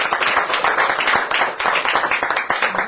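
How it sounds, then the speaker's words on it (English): An audience at a political speech claps together in a brief burst of applause, dense and fairly loud, with no talking over it. "They need a round of applause for that work."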